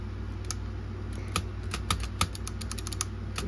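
Keys of a Groma Kolibri typewriter under repair being struck in an uneven series of sharp metallic clacks, close and distinct over a steady low hum.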